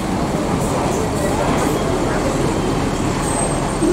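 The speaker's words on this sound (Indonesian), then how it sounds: "Masuk bus NPM V47 dengan gelar Aurora." An NPM coach bus at Pondok Pinang terminal in Jakarta, its engine giving a loud, steady rumble and roar that continues throughout, with a faint high whine near the end.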